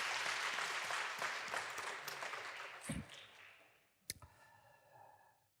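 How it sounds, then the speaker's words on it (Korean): Church congregation applauding a choir and orchestra, a dense burst of clapping that thins out and fades, with a final scattered clap or two. "격려하는 박수 한번 드리겠습니다."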